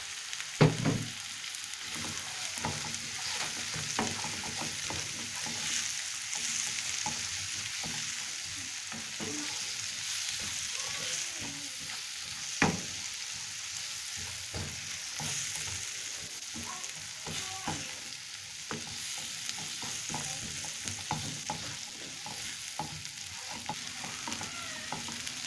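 Red and yellow capsicum fry in a pan, a constant bright sizzle broken by frequent clatters and scrapes of stirring, with one louder knock partway through.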